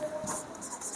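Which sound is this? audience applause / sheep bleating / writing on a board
writing on a board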